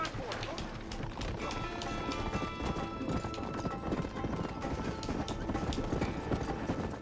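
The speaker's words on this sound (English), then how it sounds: "Get on your horses." Horses gallop in Red Dead Redemption, their hooves a dense, steady drumming clip-clop that fills the scene, with voices and game sound mixed in throughout.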